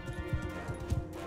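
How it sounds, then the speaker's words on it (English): Horse hooves clip-clopping in the Mount and Blade Bannerlord video game, a quick uneven run of soft thuds over a dense game soundtrack and battle noise. "Is that a horse?"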